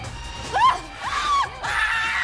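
A woman screams during an audition-style scream test: several rising and falling shrieks in quick succession over a busy background of noise.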